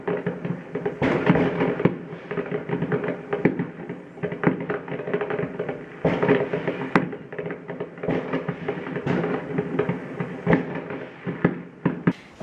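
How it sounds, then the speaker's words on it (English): Continuous crackling and popping of New Year fireworks outside the window, dense irregular bangs and crackles throughout, muffled and steady with no talking. "I have seen a few fireworks outside the window though"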